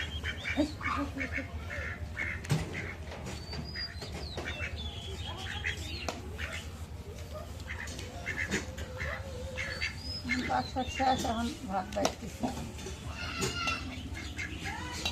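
Ducks quacking and calling as they eat rice outdoors, scattered nearby quacks and chatter over a low background rumble, with people talking in the background.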